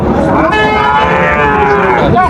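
A loud, close moo from a Sahiwal bull calf, one long drawn-out bellow that rises and then falls.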